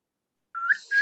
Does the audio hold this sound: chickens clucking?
no